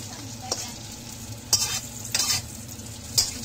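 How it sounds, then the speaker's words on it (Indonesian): Boiled beef lung seasoned with turmeric and salt sizzles as it fries in oil, a steady crackling hiss broken by a few sharp scrapes and clinks of stirring, with no voices. "Kemudian kita gorenglah dia sampai dia agak-agak garing."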